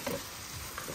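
Food sizzles and fries in a pot at an outdoor campsite, with a soft scrape of stirring at the start; a short, close, continuous hiss and no talking.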